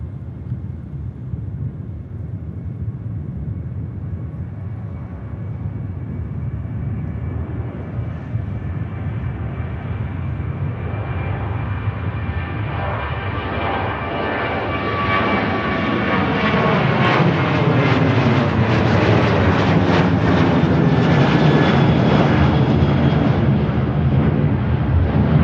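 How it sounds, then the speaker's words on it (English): A Ryanair airliner on its takeoff roll at Manchester Airport, a loud distant jet roar that swells and rises in pitch as the engines spool up, with wind buffeting the microphone. "Ryanair on the roll, on the ground."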